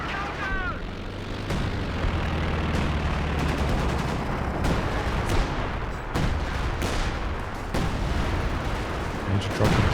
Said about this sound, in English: Dropping down some artillery.